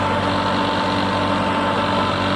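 A New Holland 3630 Special Edition tractor fitted with a 10-foot rotavator idles close by, its engine a steady, loud, even low rumble with no pauses and no voices.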